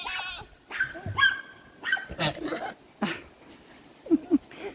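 Goats on a farm make short, wet sputtering and bleating noises in several separate bursts, close and fairly quiet, with brief pauses between them.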